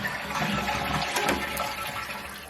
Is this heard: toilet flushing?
yes